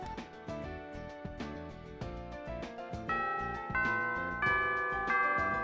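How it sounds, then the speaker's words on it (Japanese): A school chime plays in the visual novel game Zwei Trigger, a clear bell-like melody of sustained ringing notes that builds slightly in loudness, heard alone without talk. "チャイムが鳴る。 授業が終わる。"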